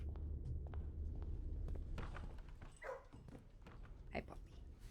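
A puppy gives a couple of short, faint barks spaced a second or so apart over a low steady background hum, with a voice speaking quietly nearby.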